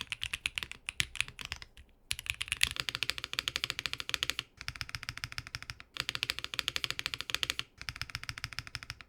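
Rapid, steady typing on a Wind Studios Sin 65 mechanical keyboard, with dense crisp key clacks in continuous bursts separated by a few brief pauses, close and alone with no talking.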